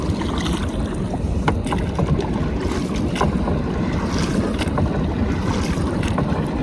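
A small boat moves steadily through creek water in Navi Mumbai with a loud continuous engine rumble, mixed with splashing and wind buffeting the microphone, and no voices.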